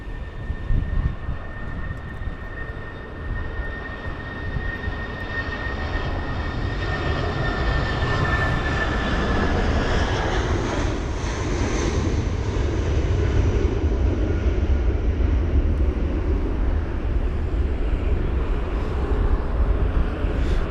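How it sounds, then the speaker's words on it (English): An Airbus A319 airliner, a 19-year-old jet bound for Munich, roars steadily at London Heathrow in stormy weather, a loud continuous engine rumble with a whining tone that fades out partway through. "The Airbus A319 with the reg Golf Delta Bravo Charlie Delta off to Munich"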